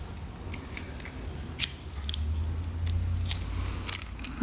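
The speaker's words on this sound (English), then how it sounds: "I'm just going to bend that pin so that it can't come back out. And we'll cut that off." A bent pin on a motorcycle being cut off with a hand cutter, a few sharp close snips and clicks over faint low background noise, no talking.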